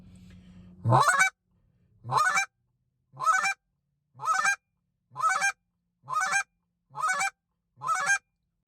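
A human voice imitates a chicken's rolling double cluck, repeating it eight times in an even rhythm with short pauses between each call.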